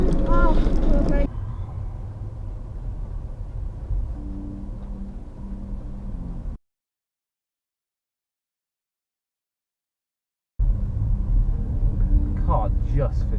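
A car rolls slowly down a tight, narrow old street, a low rumbling engine and road noise heard close with wind buffeting and people talking, then a break in the sound before the rumble resumes.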